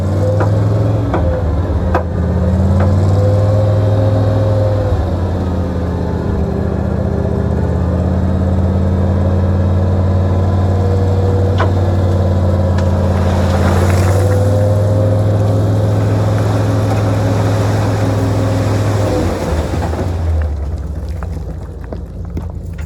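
A truck dumps a load of gravel: a loud, steady diesel engine drone with shifting tones runs throughout, swelling as the bed raises, with a rushing, hissing pour of material near the middle and the sound fading at the end.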